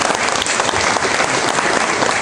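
An audience applauds at a political talk event in Venezuela, a dense, steady wash of clapping that stays loud and close across the whole stretch with no voices rising above it.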